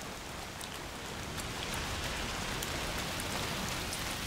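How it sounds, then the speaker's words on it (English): Constant rainfall in the video game A Plague Tale: Requiem patters softly and evenly, with scattered droplet taps over a steady hiss. "it's raining now"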